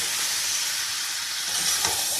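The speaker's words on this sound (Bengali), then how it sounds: "দেখো মশলাটা ভালোই ভাজা হয়েছে" Spice paste frying in a pan for a Bengali goat mutton curry, a steady dense hiss and sizzle with faint stirring scrapes, close and even throughout, no voices.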